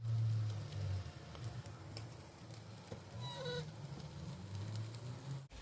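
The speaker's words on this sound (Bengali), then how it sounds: "এখন আমি কিমাগুলা দিচ্ছি।" Minced meat kebab sizzling on a barbecue grill outdoors, a faint steady crackle and hiss running throughout with low rumbling background noise.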